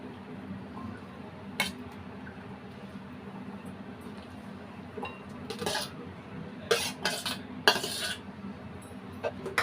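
Chopped raw vegetables for raita tipped into a bowl, a few clattering bursts of pieces and utensil clinks against the bowl over a low background hum, growing busier toward the end.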